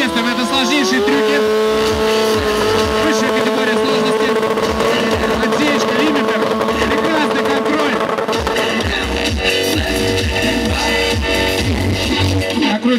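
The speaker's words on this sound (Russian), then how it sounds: "Накручивает обороты." Motorcycle engine revving hard during a freestyle burnout exhibition, a loud sustained high-pitched roar with shifting pitch, under continuous loud commentary and crowd noise.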